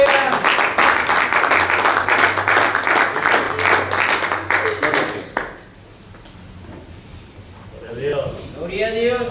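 Loud, sustained applause from a church congregation fills the first several seconds, then fades out as quieter sounds and a voice follow.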